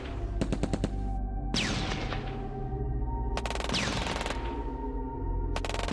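Machine gun fire from the Shadow Empire wargame crackles in several quick rattling bursts, separated by brief gaps, over a steady low hum and soft whooshing effects.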